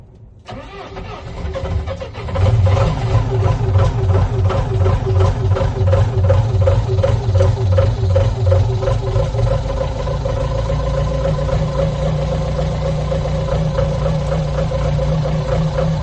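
A logging machine's engine cold-starting in winter: a short cranking build-up, then it catches and settles into a loud, steady, rumbling idle that runs on alone.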